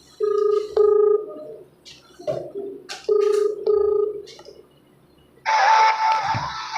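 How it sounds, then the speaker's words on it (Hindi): An outgoing phone call rings: two short ringback bursts separated by a pause, followed by a louder burst of line noise and static near the end. "चलिए इनकी पत्नी को फ़ोन किया गया है, देखते हैं क्या रिस्पांस मिलता है"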